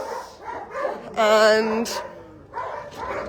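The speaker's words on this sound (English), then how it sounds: "Yeah, so that's the outside dogs." Dogs kept outdoors bark and yip in a short burst, a loud harmonic howl-like bark near the middle, with a person talking around it.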